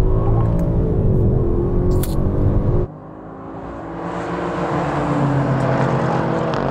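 Manual-gearbox SUVs, a BMW, an AMG, an Alfa and a Jaguar, launch together in a drag race from third gear, with loud, close engine roar that drops abruptly around a gear change, then builds again steadily.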